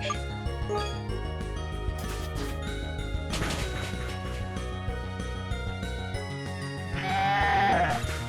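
Sheep Pokémon bleat in Pokémon Uranium over chiming game music, with a clear wavering bleat rising near the end.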